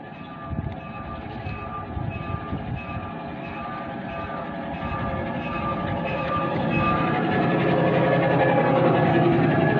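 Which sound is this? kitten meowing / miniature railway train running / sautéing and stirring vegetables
miniature railway train running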